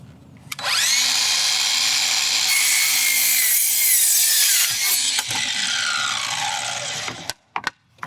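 A saw blade rips through a wooden fence board in one continuous, loud cut lasting several seconds, trailing off with a couple of short knocks as the cut finishes.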